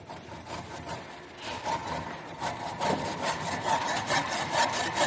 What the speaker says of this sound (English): Here we can see this saw cuts in forward direction.